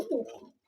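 One short, rounded coo from a white double-crested pigeon, close and fairly loud, fading quickly into quiet.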